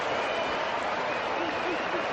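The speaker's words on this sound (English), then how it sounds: "it's a dot ball, listen to the crowd." A stadium crowd at the 1992 Cricket World Cup semi-final between Pakistan and New Zealand reacts to a dot ball with a steady, dense roar and scattered clapping that holds at a constant level throughout.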